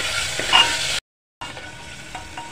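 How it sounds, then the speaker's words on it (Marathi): Sliced paneer frying in hot oil, a bright, steady sizzle that cuts out briefly and then resumes more softly. "फोडलेले पनीर तेही फ्राय करा। स्लाइसली फ्राय करा।"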